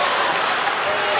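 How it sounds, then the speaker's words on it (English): A basketball arena crowd at an NCAA men's game cheers in a dense, continuous roar, with a commentator's voice running over it. "Crowd getting excited here."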